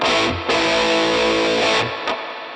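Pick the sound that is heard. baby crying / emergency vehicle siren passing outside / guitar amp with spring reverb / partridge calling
guitar amp with spring reverb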